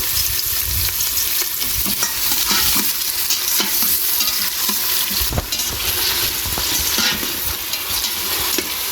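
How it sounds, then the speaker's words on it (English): Continuous loud sizzling and crackling of onion sautéing in hot oil, with occasional stirring scrapes, steady throughout and no talking. "I'm going to add 1 onion in there and let it saute."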